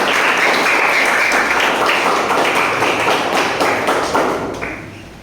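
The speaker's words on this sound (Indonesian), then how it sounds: "Tepuk tangan buat kita semua" A classroom of students clapping together during an Islamic studies lesson, loud rhythmic hand claps in a dense unison pattern that gradually softens toward the end.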